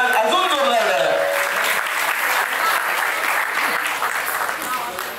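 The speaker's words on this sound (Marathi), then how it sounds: "अजून जोरदार टाळ्या" An audience at a book launch event claps loudly in a sustained burst of applause that gradually tapers off toward the end.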